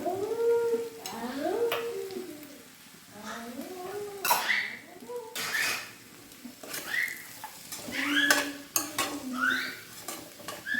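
A spoon scraping and clinking against a pot while stirring bean and potato khichdi with coriander leaves, irregular metallic knocks spread over several seconds beneath a voice talking throughout.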